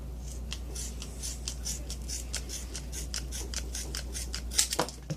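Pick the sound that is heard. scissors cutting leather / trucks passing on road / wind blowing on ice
scissors cutting leather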